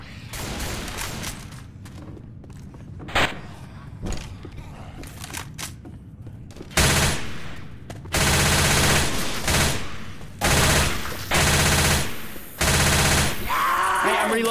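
Left 4 Dead 2 gunfire: scattered single shots early, then several long, loud sustained automatic bursts in quick succession, with faint voices between volleys.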